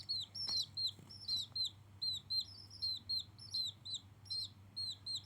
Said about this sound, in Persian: الان شاید بگید چرا قدر صدا جوجه میاد